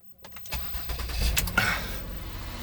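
A 2008 Ford Escape Limited engine starting with the hood open: a few quick cranking clicks, then the engine catches and revs up before settling toward idle, close and moderately loud.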